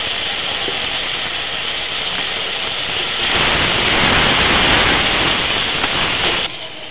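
Tomato paste seasoned with salt fries in a pan, giving a loud, steady hissing sizzle that swells midway and drops off abruptly at the end, with no talking.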